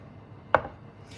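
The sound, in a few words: chopping onion with a knife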